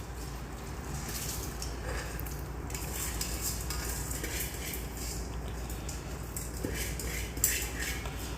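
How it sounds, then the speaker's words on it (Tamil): Rice being stirred into a pot of chicken biryani made with jeera samba rice, heard as steady scraping and clinking of a spoon against the pot over a constant low hum and faint background noise. "இப்போது ரைஸ் நம்ம போட்டாச்சு. நல்லா கிளறி விட்டுக்கலாம்."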